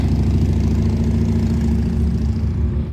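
Motorcycles pass by on a street in Canada in summer, their engines a steady, loud, low rumble that holds throughout and cuts off abruptly at the end.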